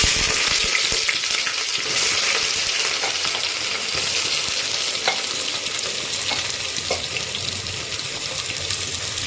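Half a kilo of onions frying over a high gas flame with cumin, bay leaf and cinnamon pieces in a pan for Bihari-style mutton curry, a steady loud sizzle with occasional stirring scrapes throughout, no talking.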